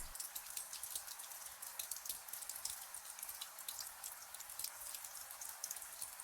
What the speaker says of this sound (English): Water passing.